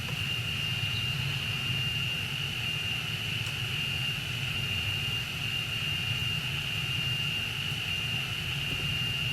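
Jet plane in the SimplePlanes video game flying fast while burning, a steady loud engine roar with a constant high whine and low rumble throughout.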